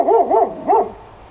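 A dog barks three times close and loud, two quick barks then a third after a short pause, with no talking.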